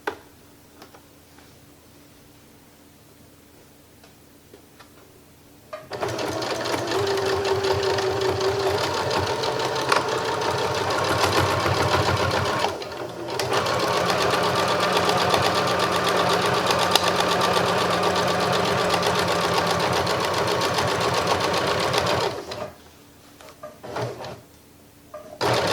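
A sewing machine stitches around a pocket on a reversible fabric shoulder bag, running in one long steady burst with a brief pause midway, close and fairly loud, no talking over it.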